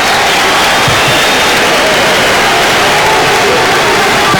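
A dense, steady roar from the home crowd at an Illinois basketball game against Seton Hall in 2000, loud and continuous throughout with no clear breaks.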